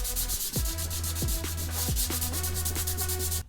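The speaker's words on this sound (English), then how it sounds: "That's how you sand down your rough spiderweb looking areas." Rhythmic back-and-forth hand sanding of rough, spiderweb-cracked paint on a Subaru WRX, a steady close abrasive rasp with regular strokes continuing for several seconds, no talking.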